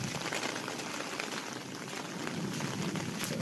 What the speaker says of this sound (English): So we got an inch of rain just now